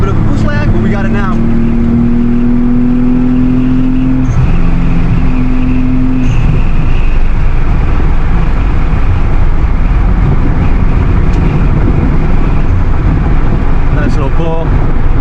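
Nissan Z sports car accelerating hard after a downshift, a loud continuous engine and road roar heard from inside the cabin, with a voice over the start.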